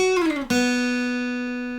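Acoustic guitar phrase from a song: a fretted note slides downward in pitch, then an open string rings out clearly and sustains, played alone and close.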